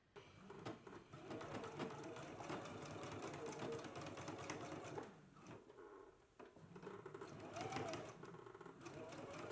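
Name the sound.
sewing machine stitching a 1¼ inch seam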